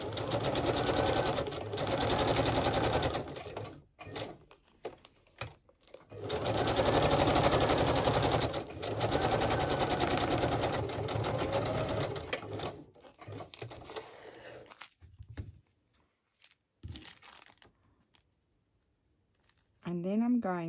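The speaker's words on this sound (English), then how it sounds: "I might just stitch across here as well and trim it down." A sewing machine stitches across a small fabric tag with a pouch in close, steady whirring runs, each lasting a few seconds. The runs are broken by short pauses, then quieter handling sounds follow, with a voice speaking at the end.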